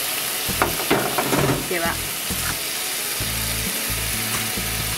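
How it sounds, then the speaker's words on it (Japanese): Pork fries over medium heat for a stamina rice bowl, a steady close sizzle with scraping and stirring clatter, while a voice speaks briefly near the start. "少し 中火で焼いていきます。"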